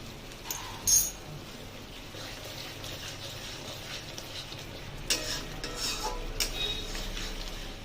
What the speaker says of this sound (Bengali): এটাকে টাইম নিয়ে একটুখানি আমি কষিয়ে নেব, যতক্ষণ না তেল ছাড়ছে